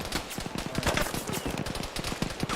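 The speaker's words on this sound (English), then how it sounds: "Team 1, we're firing beyond the barn at your east side here" Sustained automatic gunfire in the military shooter Arma during a large special-forces team battle near a barn, dense rapid cracks overlapping continuously, loud and close throughout.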